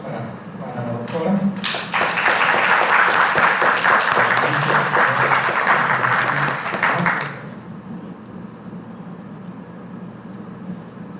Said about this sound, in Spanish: les pido un fuerte aplauso para la doctora